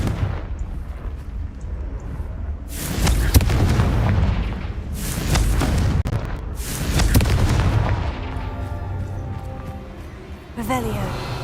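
Spell blasts from Confringo and Bombarda in the video game Hogwarts Legacy, heavy booming bursts arriving in several waves, loud and close, mixed with game effects and a voice.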